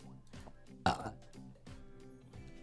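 A single loud, close burp erupts abruptly in the middle of otherwise quiet speech-like vocal sounds, standing out sharply for a fraction of a second.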